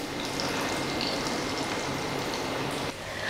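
Vermicelli wrapped around a potato nest fries in hot oil with a steady, dense sizzle and crackle. The sound is close and continuous, dips briefly near the end, and no one speaks.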